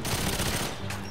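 Rapid gunfire in GoldenEye 007 Reloaded on the PS3 Station level, a dense, loud burst of shots running the whole moment with a brief break near the end.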